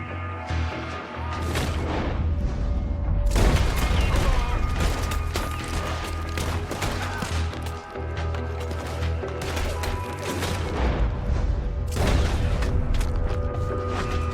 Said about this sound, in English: Some raiders fire blindly in confusion, while others attempt to regroup.